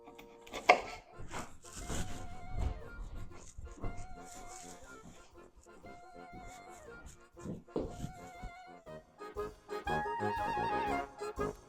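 Knife chopping broccoli during home processing in Maine: a steady run of crisp, close cutting strokes and knocks on a board, irregular in rhythm, with no talking.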